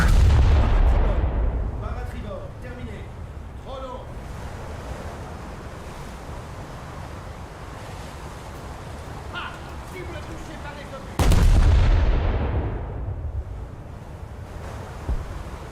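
Missiles launch and blast in a naval video game, with a heavy rumbling explosion at the start and another sharp boom later, over a wind- and surf-like wash.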